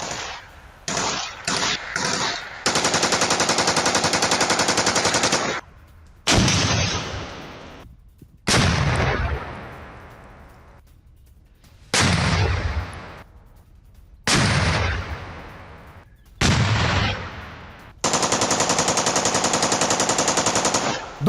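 Heavy gunfire rakes Russian soldiers in trenches, loud sustained automatic bursts alternating with short gaps, sharp single reports and decaying echoes across the whole stretch, with no talk.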